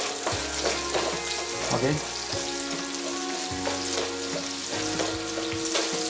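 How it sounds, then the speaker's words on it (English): Moong dal curry ingredients sizzle and fry in oil in a pan while a utensil stirs them with repeated scraping knocks, close and steady, and a voice briefly speaks. "Try to mix in such a way that every ingredient present in the pan should become oily."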